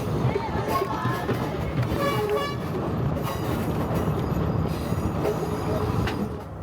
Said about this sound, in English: the Kandy to Ella train crossing the bridge